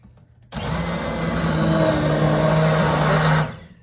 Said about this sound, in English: Pulled out the immersion blender and we're going to put this in here. And we're going to puree this gravy.